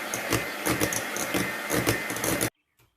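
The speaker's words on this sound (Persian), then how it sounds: "با میکسر میزنیم" An electric mixer whips cream in a home kitchen, a steady buzzing whir with pulsing beats for about two and a half seconds before cutting off abruptly, followed by near silence and a faint knock.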